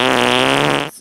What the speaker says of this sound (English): I only fart when I sit down.